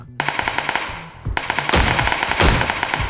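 Rapid bursts of automatic gunfire in PUBG, loud and close, with sharp overlapping shots from a hillside and a few heavier blasts, continuous throughout.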